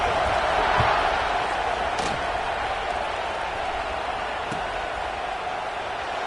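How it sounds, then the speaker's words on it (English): Dense, continuous roar of a large football stadium crowd late in a tied fourth quarter just before a kickoff, loud and unbroken, with faint scattered thuds and voices mixed into the wash of noise. "this crowd is buzzing after that last score"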